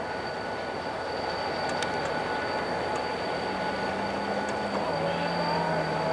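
CSX locomotive 2514 idles or moves slowly in Utica, a steady low rumble with a faint high tone and a brief squeal partway through, heard from a moderate distance.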